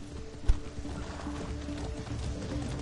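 Horse hooves clip-clop in Far Cry 6, a steady rhythmic trot beneath continuous game ambience, with one sharper thump near the start.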